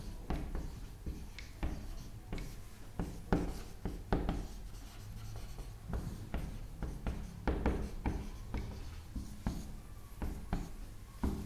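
Steady chalk or marker strokes on a board during an agronomy lecture, a rhythmic series of scratchy taps and rubs that continues at an even pace throughout, close and clear, with no talk.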